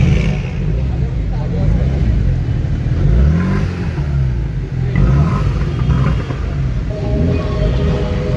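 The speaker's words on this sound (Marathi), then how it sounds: "काय खतरनाक कार चालेल." A car engine revs hard at a Sunday car meet in Mumbai, with a loud, rising and falling roar and rumble under people talking nearby throughout.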